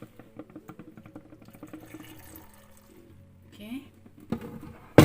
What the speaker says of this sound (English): add a little bit water in.